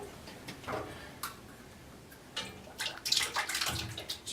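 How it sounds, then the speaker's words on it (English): Two cans of peaches poured into a cast-iron Dutch oven for a cobbler, wet glugging and splashing in uneven bursts that grow louder toward the end, close by, with no talking. "what I got here is 2 cans of peaches, and we're just going to pour them in the bottom of this Dutch oven here"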